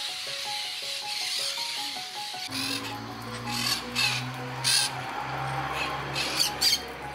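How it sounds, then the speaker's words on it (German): Macaws and other parrots call around a campsite in Bonito, Pantanal, Brazil: harsh squawks and rasping cries layered over a dense chorus of birds and insects, steady and fairly loud throughout. "Hier am Stellplatz in Bonito waren die Rufe der Aras und anderer Papageienarten stets zu hören"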